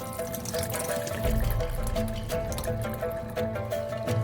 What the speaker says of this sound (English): Drain the remaining water from the black beans.